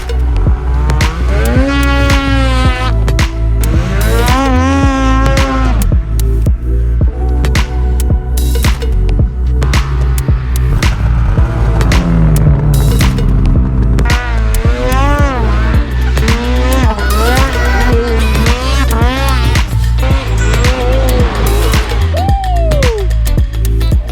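A Polaris snowmobile engine revving hard and wavering in pitch as the sled powers out of a crooked turn, loud and close, the whine rising and falling repeatedly throughout.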